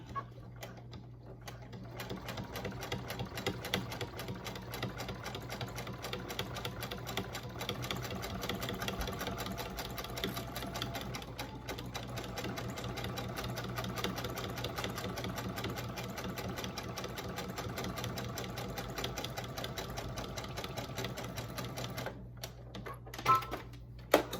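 Domestic sewing machine top stitching a wallet, running in a steady continuous mechanical whir with rapid needle ticking for most of the clip, then stopping briefly near the end.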